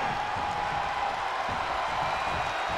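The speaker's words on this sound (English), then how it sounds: "The sound of this crowd is deafening" A dense, steady roar from a packed arena crowd at WrestleMania, during a tag match with Hulk Hogan and Mr. T against Paul Orndorff and Roddy Piper. The noise stays constant and loud throughout, with no clear gaps.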